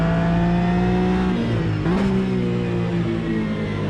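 Race car engine in Automobilista 2, a rear-engined GT car, revs high and steady, then dips with a quick shift near the middle and climbs again. It is loud, close and continuous, with no speech.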